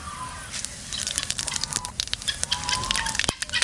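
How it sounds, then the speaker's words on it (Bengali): Bay leaves, whole cumin and whole garam masala spices sizzle with goat meat in hot mustard oil, a loud close crackle and spatter with sharp pops throughout. "চাপাই দেবো এবার মাংসটা তেজপাতা আর গরম মশলা গোটা জিরে"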